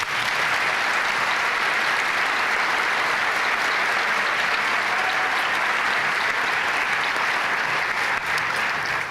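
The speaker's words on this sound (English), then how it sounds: "Let's please give them a round of applause." Sustained, loud applause fills a high school auditorium at a Martin Luther King Jr. Day ceremony, honoring guests and their families, a dense steady wash of many hands clapping without pause for about nine seconds.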